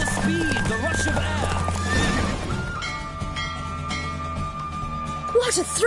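Horse hooves in The Witcher 3 on PS5 clip-clop rapidly in a galloping rhythm during a race, with whinnies and neighs, under a voice speaking and light background music.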